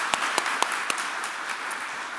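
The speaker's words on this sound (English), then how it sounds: "so just a little round of applause for Laura." A small audience at a customer success event gives a brief round of applause, a few sharp isolated claps at the start melting into light, thin clapping that fades quickly.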